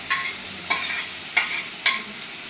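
Puti fish frying in a pan for a mustard-paste churchuri, a steady sizzle broken by four regular scrapes of stirring.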